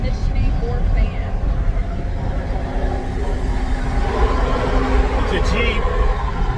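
Loud, steady road and engine roar fills the cabin of a Jeep Gladiator pickup while it drives, a constant broadband rumble with voices talking over it.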